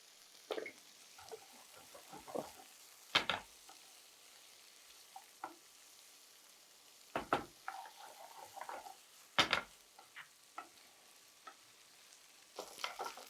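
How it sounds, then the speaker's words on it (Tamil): Carrots, potatoes and curry leaves sauté lightly in a pan for a chicken stew, with a soft sizzle under scattered clinks and scrapes of a spoon stirring against the metal, close and intermittent. "இப்போ காய்கறி வந்து நம்ம லைட்டாக வதக்கிட்டோம்."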